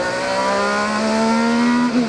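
A loud, close race car engine whines as it accelerates, its pitch climbing steadily before easing off briefly at the end.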